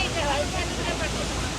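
A small waterfall at Milford Sound produces a constant, broad, rushing hiss close by. It holds an even level throughout with no pauses.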